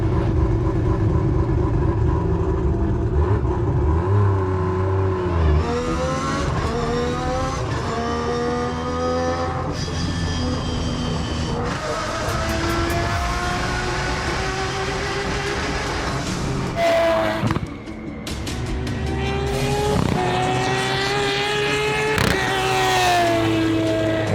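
An engine roars continuously as a 1000 hp race car accelerates and shifts through gears at Lime Rock, pitch climbing and dropping repeatedly, loud and close throughout.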